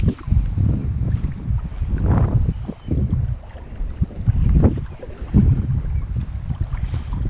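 Strong wind gusting over open water on a fishing boat, roaring in heavy buffeting bursts against the microphone with low rumble and water slap, continuous and loud with no voices.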